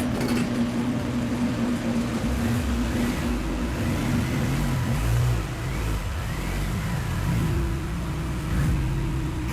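A supercharged Mini car being driven into a garage, its engine humming steadily up close with shifting revs and a low rumble throughout, no voices over it.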